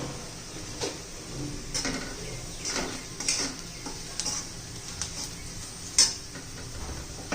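A spoon stirs coriander powder, turmeric and spices in hot sizzling oil for a dry black-eyed pea curry, giving soft scraping and occasional clinks against the pan over a faint steady sizzle.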